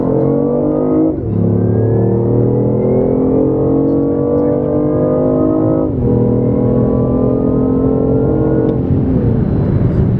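A 2015 BMW i8 accelerates hard toward 105 mph from inside the cabin, a loud, steady engine and electric whine climbing in pitch across several gear shifts.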